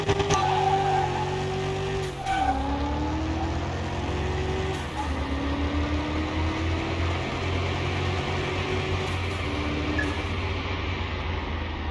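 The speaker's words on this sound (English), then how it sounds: "So we got our V10 special BMW Pro car." A V10-powered BMW Pro car from Car Mechanic Simulator 21 races with a steady, loud engine drone whose pitch rises and shifts over twelve seconds, with gear changes breaking the tone.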